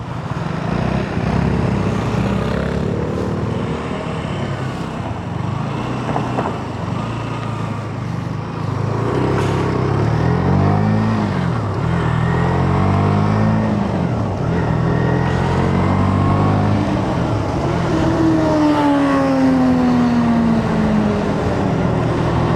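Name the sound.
motorbike riding on a road at night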